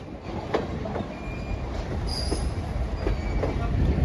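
Steam locomotive Nickel Plate Road 358 pulling a train rolls steadily past nearby in Angola, wheels clicking over rail joints with a brief high squeal, the rumble building slightly toward the end.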